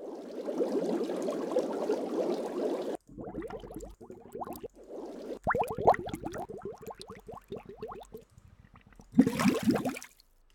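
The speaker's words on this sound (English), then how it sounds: "Okay, maybe we want some bubbles." A bubbling water sound effect plays in several bursts, a gurgling wash followed by choppy, separate bubble pops, near and fairly loud with short silent gaps between.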